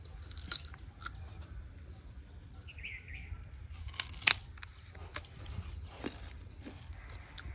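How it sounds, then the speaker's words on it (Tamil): Sugarcane being bitten and chewed at a family Pongal celebration: a few sharp, crunchy snaps and chewing noises, fairly faint and near, with birds chirping in the background. "கரும்பு கடிக்கிறீங்களா?"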